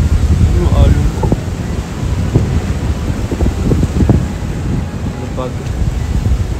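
Sea waves wash against the coast at Kanazawa, Japan, while heavy wind buffets the microphone in a loud, rumbling roar. A faint voice surfaces briefly once or twice.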